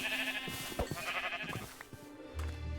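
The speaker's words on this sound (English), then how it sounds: "That right there are sheep." Sheep in a Minecraft-style video game bleat faintly several times in quick succession over low steady background music, soft and close.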